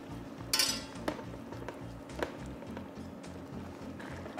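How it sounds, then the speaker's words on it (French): Steady stirring of squid ink risotto in a pan as vegetable broth is added, with faint utensil scrapes and light clinks over a low rhythmic background hum, quiet and close. "On va mélanger bien. Et doucement, doucement, on ajoute encore des bouillons de légumes."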